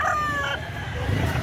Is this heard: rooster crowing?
yes